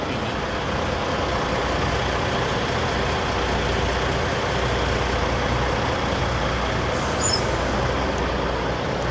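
A truck engine rumbles steadily and loudly throughout at the 75 Chrome Shop Truck Show, a continuous idling drone with no breaks or voices.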